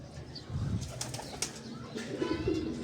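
Pigeons coo softly nearby while wings flap in brief bursts, with low rustling throughout.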